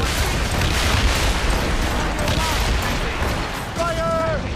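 Naval battle in Assassin's Creed Rogue, with ship cannons firing as a dense, loud roll of booms and blasts over crashing noise while crew voices shout briefly under the barrage.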